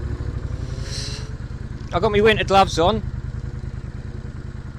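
Triumph Bonneville Bobber motorcycle engine while riding in cold weather, a steady low rumbling throb running throughout with wind noise, as a rider speaks briefly over it in the middle.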